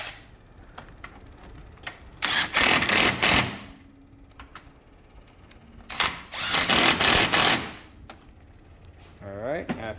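A power tool runs in two loud bursts of about a second each, tightening the bolts on a Can-Am X3 Turbo RR wheel, with quiet clicks of handling between them and a voice speaking briefly at the end.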